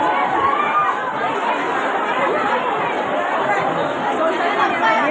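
Dense crowd chatter in a packed second-class compartment of a Mumbai local train, a steady close babble of many voices with no pauses.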